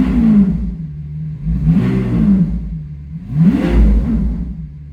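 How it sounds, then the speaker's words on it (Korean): Lamborghini Aventador S V12 exhaust revving from a stationary car, three deep rising blips that swell and fall away, loud and close with no talk. "진짜 요즘에 나오는 터보차들이 배기음 좋다고 하는데 이 배기음을 따라갈 수가 없어요"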